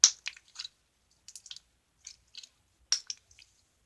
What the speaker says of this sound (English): if you do that, what I just did, it makes humongous air bubbles.